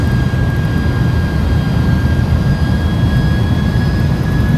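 Airbus A300-600R jet engines in the X-Plane 11 flight simulator on approach, a loud steady roar with a constant whine throughout, no talking.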